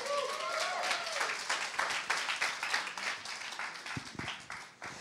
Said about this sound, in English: Come on guys, you can clap better than that.